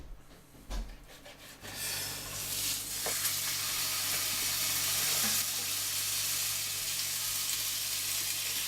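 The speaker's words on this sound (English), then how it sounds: "We're just going to add it in to brown the meat all over." Meat for a gluten-free pie drops into a hot pan and quickly builds into a loud, steady sizzle that holds evenly, after a few brief handling knocks at the start.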